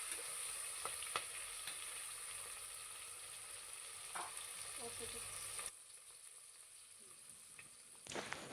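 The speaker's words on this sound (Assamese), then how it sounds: "এয়া দেখিছেনে, অকণমান ৰঙা ৰঙা হোৱালৈ ভাজি ল'লোঁ" Pork sizzling and frying in a pan until reddish, a steady close-up hiss with occasional soft stirring knocks, the sound dropping sharply partway through before the sizzle rises again at the end.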